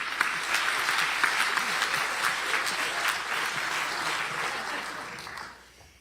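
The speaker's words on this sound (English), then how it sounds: "Let's give a round of applause to Bill, our author, our amazing ASL interpreter, Audrey Morris." Audience at an author reunion event claps steadily in a dense, loud burst of applause that holds for several seconds and then fades away at the end.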